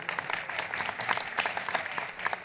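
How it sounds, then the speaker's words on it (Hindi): An audience at a devotional bhajan festival applauds, brief bursts of clapping in an uneven rhythm, fairly faint and distant. "उनके लिए जोरदार तालियां।"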